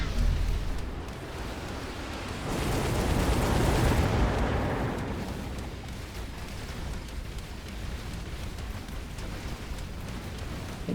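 A broad, rumbling explosion in a video game swells for a couple of seconds and then fades into a steady noisy wash, with no speech over it.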